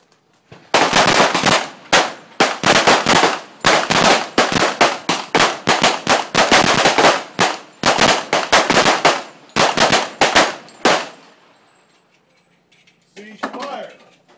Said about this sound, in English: For your second string of rapid fire, with 5 rounds, load.